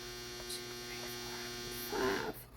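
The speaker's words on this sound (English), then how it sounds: "Sorry for my dryer" Steady, droning hum of a running clothes dryer fills the room on its own, with a brief louder surge near the end.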